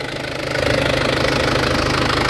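Diesel engine of a four-door pickup truck idling with the engine bay open, a loud, close, steady knocking chug with even rhythm that swells slightly then holds, without speech.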